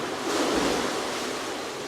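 Steady broadband wash of water beside an indoor pool in a warm room, a continuous soft rushing hiss with no breaks, close and even in level throughout.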